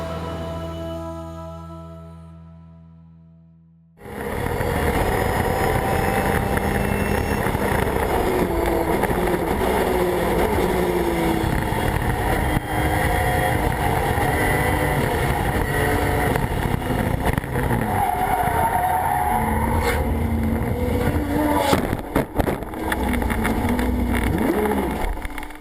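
Loud racing engines roar past continuously at Lime Rock Park after a quiet start, with shifting pitch as race cars accelerate and pass close by.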